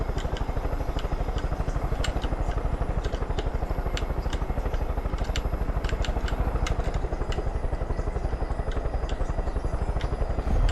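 A helicopter in the game Far Cry 5 flies close overhead, its rapid rotor chop pulsing loud and steady for the whole stretch, with engine whine above and no talking.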